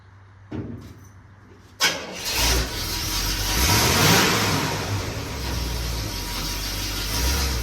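A car engine cranks and fires up after a couple of short clicks, then revs with a rising whine and settles into a loud, steady running drone as the car is driven into a home garage.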